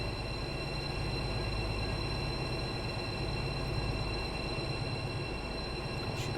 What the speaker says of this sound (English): Train coming in over there.